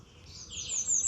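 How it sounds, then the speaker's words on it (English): A female American redstart sings in the morning in Ontario, Canada, a short run of high, thin chirps rising in loudness over about a second, with quiet background and no talking. "That's the American redstart female."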